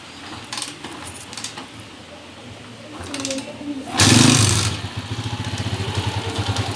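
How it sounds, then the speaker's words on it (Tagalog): A Honda TMX 155 motorcycle, freshly converted to a 5-speed gearbox, fires up with a brief loud burst of revving, then settles into a steady, rapidly pulsing idle nearby, with someone talking over parts of it. "Yan, andar na mga kabro. 5-speed TMX 155."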